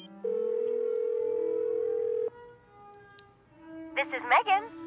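In the Nancy Drew: Warnings At Waverly Academy game, a phone call gives a steady, clear electronic tone lasting about two seconds, followed by a short lower tone and then a voice speaking.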